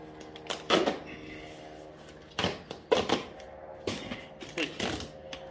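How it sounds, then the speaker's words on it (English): Gorilla tape ripping off the roll in several short, loud tearing bursts while sealing a shipping box for a forged knife, with pauses between pulls. "So now we're going to Gorilla tape the box."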